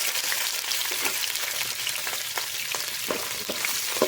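Onions sautéing in hot oil with popped mustard seeds and curry leaves for a bottle gourd stir-fry, a steady close sizzle and hiss broken by scattered crackles and soft stirring scrapes, no voices.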